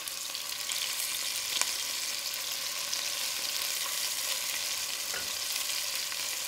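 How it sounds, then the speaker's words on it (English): Beef browning in a hot pan over medium-high heat for a beef and shallot stew, a steady close sizzle and crackle with a few sharper pops, no talking. "it's just going to take about a minute on each side for the meat to brown."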